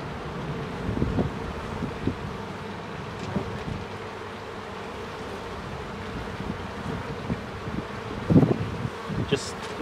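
Honey bees buzz around a wine barrel beehive, a close, steady drone with wind brushing the microphone and occasional louder passes as individual bees fly near.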